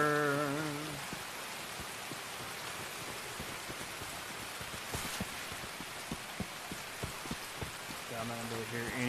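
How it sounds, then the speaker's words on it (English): Rain falling in the video game Escape from Tarkov, a steady hiss of drops with faint tapping on surfaces, moderately quiet, with a few brief tonal game sounds at the start and end. "The rain is obnoxious."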